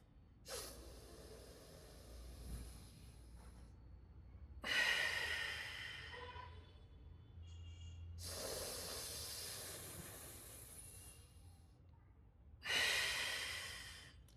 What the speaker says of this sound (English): Deep breathing in the sense like this. like Dirgha Bastrika or Dirgha Pranayama.